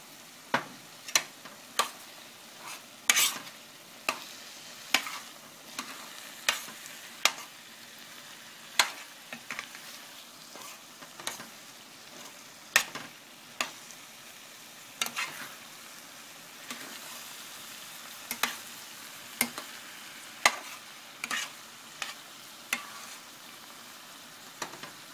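Huevos a la mexicana being stirred in a frying pan, with a steady sizzle under repeated sharp scrapes and clacks of the utensil against the pan, close and fairly loud for about twenty-five seconds.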